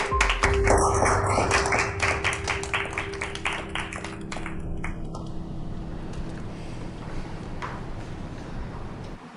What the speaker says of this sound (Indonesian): Semoga kalian memberinya tepuk tangan